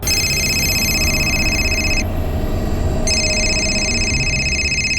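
An electronic telephone ring trills in two bursts with a short gap between them, loud and close over a steady low background hum.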